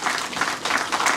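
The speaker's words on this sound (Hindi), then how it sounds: "मैं चाहूँगा सब लोग एक बार ताली बजा करके ज़रूर सर का स्वागत करें।" An audience claps steadily to welcome a speaker at a public lecture, a dense, even wash of applause that fills the whole moment with no voices.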